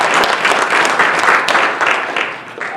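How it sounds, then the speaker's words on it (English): At a hazardous weather communication workshop, a crowd gives a loud, full round of applause for Jason, a National Weather Service regional director, with the clapping sustained evenly before tapering slightly at the end. "So let's give Jason a round of applause here."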